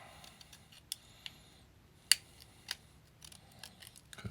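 Scissors snip through cured JB Weld epoxy, a few sharp separate clicks spaced out over quiet room tone, close and fairly faint.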